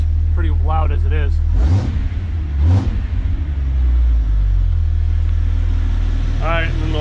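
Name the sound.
truck engine revving with Spectre cowl intake installed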